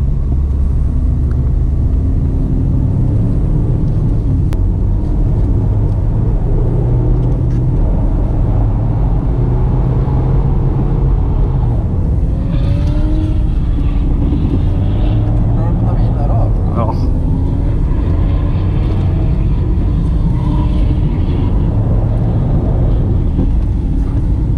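A car drives on a frozen lake ice track at Losna, its engine a loud, continuous rumble with rising and falling revs throughout, heard from inside the car while people talk.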